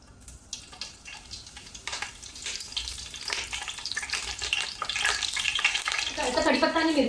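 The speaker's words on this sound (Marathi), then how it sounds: "तर आता तेल आहे ना तापलेलं आहे, तर यामध्ये घालते थोडीशी मोहरी" Mustard seeds and cumin splutter in hot oil for a tempering, a dense crackling sizzle that builds steadily louder toward the end, close up, with no talking.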